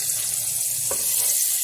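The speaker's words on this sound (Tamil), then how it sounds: "தாளித்து வச்சுருக்கத இதில் அப்படியே கொட்டிடலாம்" Hot tempering poured onto curd rice: a brief, soft sizzle with a short splash of pouring at about the midpoint, then a quiet hiss.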